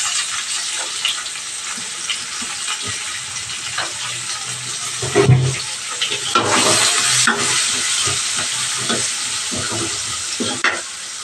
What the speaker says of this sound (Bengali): পেঁয়াজটা একটু নুন দিয়ে দিলাম, তাড়াতাড়ি নরম হয়ে যাবে।